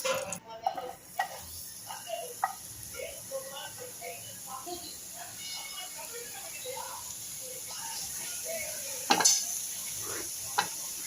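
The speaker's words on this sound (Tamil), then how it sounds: "திரும்ப புடலங்காய் விதையை வறுப்போம்" Snake gourd seeds roasting in a pan make soft crackles and light stirring scrapes, fairly quiet and close, with a louder clatter near the end.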